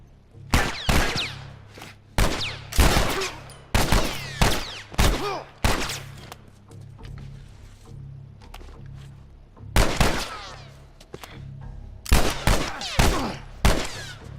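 Gunfire from The Last of Us Remastered, played on Grounded difficulty: loud sharp shots come singly and in quick bursts, separated by short quiet gaps.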